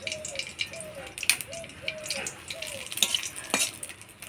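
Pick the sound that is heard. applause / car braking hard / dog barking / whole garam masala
whole garam masala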